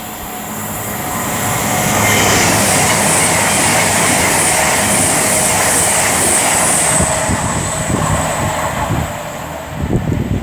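Class 730 electric multiple units on the West Coast Main Line at Rugeley Trent Valley rush past with a loud, sustained rolling roar, a high whine and wheel squeal, swelling then easing with faint rhythmic clatter near the end.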